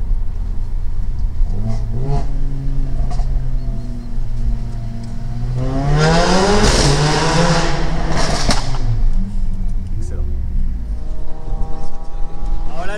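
Supercars including two Audi R8 V10s, a Lamborghini Gallardo and a McLaren 720S drive through a tunnel, engines roaring loud and close with rising and falling revs that peak in a bright, full-throttle surge midway.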